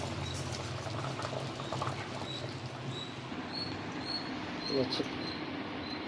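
A chicken pasta sauce made with rice and maida flour boils gently until the oil separates, giving soft, steady bubbling and occasional pops over a low background hum.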